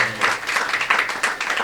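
An audience claps at a live Tamil villupattu bow-song performance, a short burst of dense applause that rises and dips in uneven waves.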